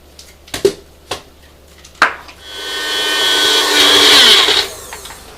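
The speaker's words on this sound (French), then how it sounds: "je vais mixer ça pour en faire une pâte" Countertop blender whirring as it purées basil and sun-dried tomatoes into a paste, a few knocks and clatters first, then a loud sustained motor drone for about two seconds before it stops.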